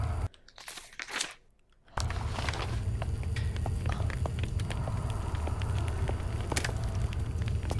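Steady crackling fire burning inside a lift in the game Maid of Sker, a dense roar with scattered pops and crunches that starts loud after a brief quieter stretch of scraping and shuffling.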